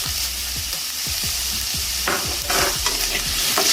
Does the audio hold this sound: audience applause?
no